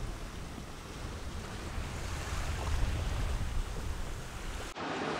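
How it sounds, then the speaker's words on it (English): Strong gusting wind and breaking waves surround a sailboat at sea as a squall comes in, a steady roaring rush of air and surf buffeting the microphone, loud and unbroken, with no talking. "The wind is already picking up a little bit."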